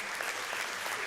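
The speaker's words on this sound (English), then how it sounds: "Big applause for Ruben." Conference audience applauding a speaker coming on stage, an even wash of many hands clapping together, close and continuous through the moment.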